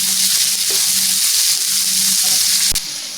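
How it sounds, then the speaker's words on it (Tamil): Onions, asafoetida and curry leaves sauté in a hot pan for a spicy onion chutney, giving a loud, steady, close sizzle throughout with a brief clink near the end. "பெருங்காயத்தூள், கருவேப்பிலை, வெங்காயத்தை போட்டு நல்லா வதக்கிக்கங்க"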